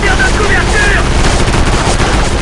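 Dense, loud video-game gunfire fills the whole stretch, rapid bursts overlapping like machine-gun fire laid down as covering fire during an Area 51 shooter battle.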